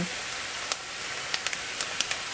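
Pierogi ruskie fry in fat in a pan, giving a soft, continuous sizzle with scattered small pops and crackles, steady and fairly close.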